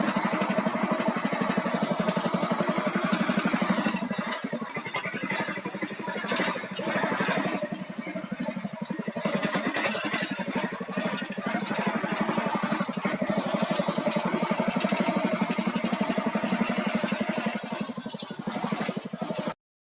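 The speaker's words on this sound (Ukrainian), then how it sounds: "Все, тракторець з'їжджає з города." A mini tractor's small engine chugs steadily with a rattling, sputtering drone as it drives off a vegetable garden, holding fairly constant for a long stretch before cutting off abruptly.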